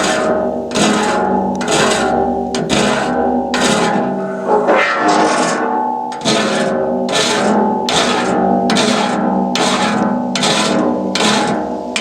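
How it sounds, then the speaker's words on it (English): A large hand file rasps across sawmill saw teeth in repeated long strokes, about a dozen evenly spaced loud close scrapes with short pauses between them, and no voices. "And this I can just sharpen myself with a large file."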